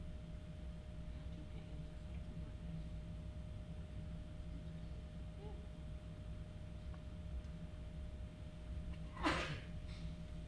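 A single sharp sneeze bursts out near the end, close and brief, against steady low air-conditioning hum in an indoor room; someone speaks faintly beforehand.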